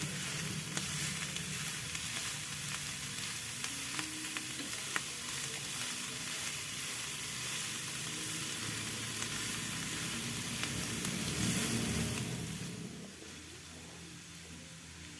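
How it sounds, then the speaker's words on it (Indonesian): Oyster mushrooms stir-fry in a pan with a continuous, close sizzle and faint scraping of stirring, holding steady before easing down near the end. "Kita tumis agar jamurnya kenyal-kenyal dan langunya hilang, sambil terus diaduk-aduk"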